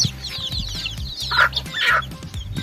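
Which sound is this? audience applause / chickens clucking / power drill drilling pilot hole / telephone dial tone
chickens clucking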